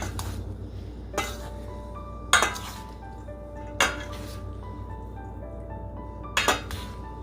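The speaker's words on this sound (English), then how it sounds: "I like to give it a mix when I add the bulgur" Bulgur tabbouleh salad mixed in a bowl, several sharp clinks of a utensil against the bowl spaced over a few seconds, with soft scraping between them and no talking.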